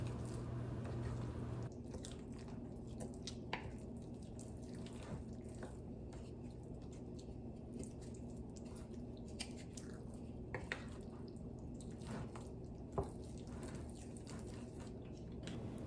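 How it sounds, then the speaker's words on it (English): Wet, sticky squishing and soft scraping come from vegan pizza dough being stirred with a wooden spoon, quiet and close, with faint irregular clicks and no voices. "now I'm using a wooden spoon to mix in my dough"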